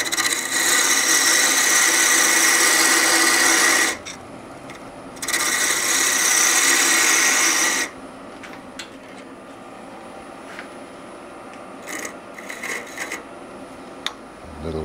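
Power tool shaping a tenon on the end of a wooden workpiece, two loud sustained bursts of about four and three seconds with a short pause between, followed by quieter scraping and light handling noises.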